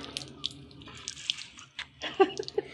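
Water running and splashing in a kitchen sink as bugs are rinsed off, with light irregular splashes and drips, soft and close.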